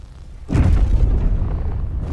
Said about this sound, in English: I'm gonna try to shoot the railguns now